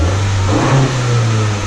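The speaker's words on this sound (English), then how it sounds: "Alex, rev it a bit." A turbocharged 2016 Honda Civic engine revs loudly and steadily up close, a continuous droning burst with a slight rise and fall in pitch and no voices.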